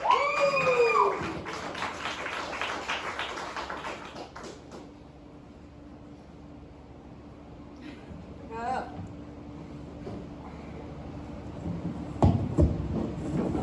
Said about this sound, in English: Everyone give a big round of applause for Angela Lewis